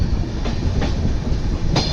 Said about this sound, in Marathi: कोकण रेल्वे आपली बघू शकता तुम्ही